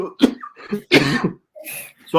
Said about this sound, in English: Chesty cough, people.